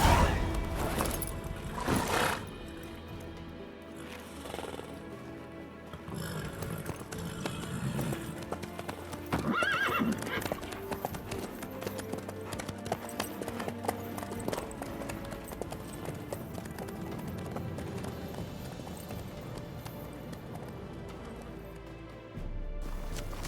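Horse hooves clip-clop steadily at a trot in The Witcher 3, close and continuous over a low bed of game ambience and music for most of the stretch.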